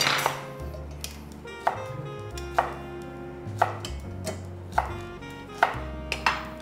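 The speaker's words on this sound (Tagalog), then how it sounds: "Mag-chop ka ng spring onions." A knife chops spring onions on a cutting board in a steady series of sharp, evenly spaced taps, close and clear, with faint kitchen background and no talking.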